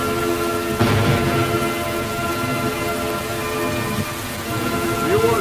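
Steady heavy rain downpour over a village, a dense continuous hiss with a low rumble, loud and unbroken, with faint background voices.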